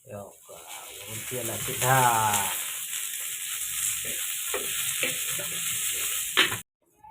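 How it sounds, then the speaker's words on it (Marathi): Onion frying in hot oil in a pan while cooking a chicken thali, with a steady loud hiss and sizzle close up and some stirring. A person talks over it, and the sound cuts off sharply near the end. "जरा तेलात कांदा टाकून मारला की आणखी चव चांगली येते"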